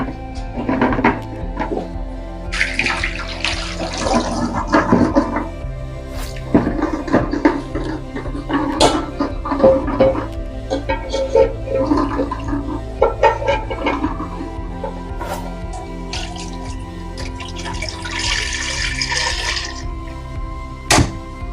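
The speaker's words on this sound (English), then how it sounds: "The first thing here is to wash our egg and then boil it so that we get it" Running water from a tap while eggs are washed in a kitchen, a steady hissing wash with intermittent splashes and clunks across the whole stretch, fairly close and with no talking.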